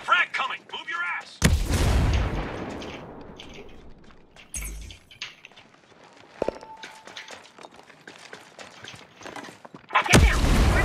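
Frag grenade blasts in the shooter Breakpoint during a PvP match: sudden loud explosions, the first trailing off into a long rumble, then two more bursts, with footsteps and scattered gunfire between them.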